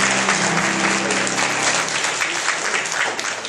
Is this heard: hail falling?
no